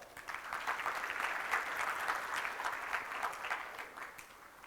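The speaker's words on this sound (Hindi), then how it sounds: "आप सबकी चर्चा के लिए जोरदार तालियां" A seated audience at a workshop session gives a round of applause, a lively burst of many clapping hands that swells quickly, holds steady for a few seconds and then thins out, with no voices over it.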